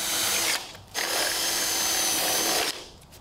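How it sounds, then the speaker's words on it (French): Power drill running loud and close while clearing out drill holes before a window replacement, one sustained whine broken by a short dip and a brief stop near the end. "Dégage les trous de perçage avant l'installation."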